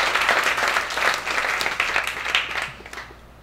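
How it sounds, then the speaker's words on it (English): An audience warmly applauds a guest at a talk on microdosing psychedelics, a full round of many hands clapping steadily before tapering off and fading toward the end. "if you could also give her a warm round of applause"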